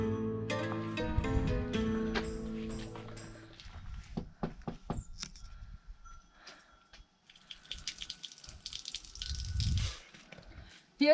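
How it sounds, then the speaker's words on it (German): Water gushes from an outdoor tap in front of a house near Kotor, Montenegro, a steady rushing splash rising over faint clicks and drips after some brief music at the start. "hier draußen vor dem Haus haben wir einen Wasserhahn gefunden. Und da kommt sogar Wasser raus."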